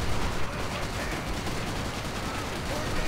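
Gunfire rattles at a tank in Call of Duty: World at War, dense rapid shots and blasts packed into a loud continuous barrage, with a voice speaking over it.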